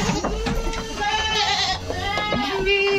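Boer goats, a contest-grade herd, bleat repeatedly in overlapping wavering calls, loud and close, with someone speaking now and then among them.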